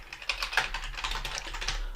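Numbers typed on a computer keyboard during spreadsheet work, a quick run of close, distinct key clicks with no talk over them.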